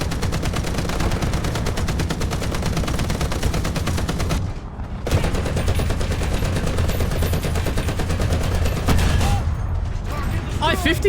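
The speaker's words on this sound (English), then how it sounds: "I was just using the 50 cal for sighting." A .50 cal machine gun in the War Thunder tank game fires long, loud, rapid continuous bursts, pausing briefly twice before resuming.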